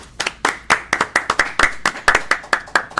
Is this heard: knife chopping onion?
no